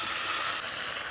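Ginger paste sizzling hard as it hits a hot pan of oil for a village-style banana stem curry, a steady close hiss that softens slightly partway through.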